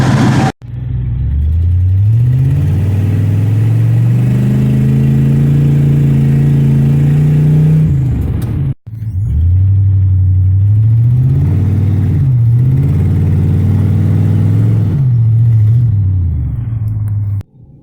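A GMC truck engine with a modified exhaust runs steadily, its low drone rising and falling as it revs up and settles back, close by, with a brief cut partway through.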